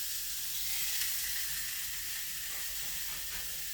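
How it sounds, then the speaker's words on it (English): Hamburger steaks sizzle steadily in a hot frying pan, a dense continuous hiss of frying fat heard close up with no voices. "So whilst they're sizzling away"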